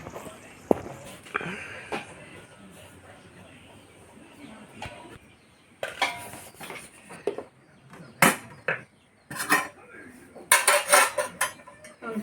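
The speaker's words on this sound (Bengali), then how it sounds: "এখন এই যে একটু মিক্স করব বিরিয়ানিটা" A spoon scrapes and clanks against a metal pot while biryani is mixed. After a quiet, faintly noisy start, clusters of sharp metallic clinks and scrapes arrive in irregular bursts, close and fairly loud.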